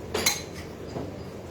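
Metal spoon clinking against a bowl while mixing mawa filling, two quick chinks close up then a softer scrape, with background room hum.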